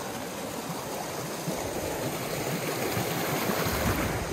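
A river flows steadily nearby during an outdoor hike, a continuous broadband rush of water with no voices, holding an even, moderate level that swells slightly toward the end.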